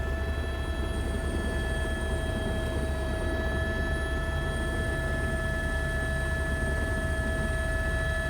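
A small airplane's engine drones steadily and loudly while flying into the wilderness, a constant close hum with no pauses.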